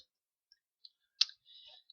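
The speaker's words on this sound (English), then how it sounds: "See, he's typing too fast again." Rapid keyboard typing, a few scattered light clicks followed by a quick burst of keystrokes, faint and close with no talking.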